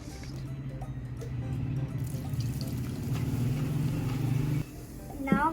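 Sprite soda is poured into a glass with lemon, mint leaves and ice cubes for a mint margarita, giving a steady fizzing, splashing liquid stream for several seconds before stopping, with a faint clink at the end.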